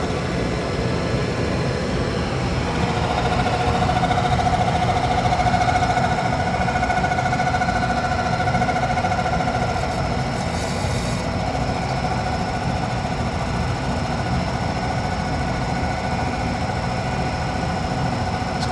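A diamond grinding wheel on a bench grinder spins with a steady, even hum and a faint high whine, continuous and unbroken for the whole stretch, with no talk over it.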